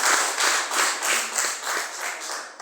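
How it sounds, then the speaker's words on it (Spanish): Church congregation clapping during a Spanish-language sermon, a moderate swell of applause that pulses in loose waves, with no talk over it. "Denle un fuerte aplauso al Señor"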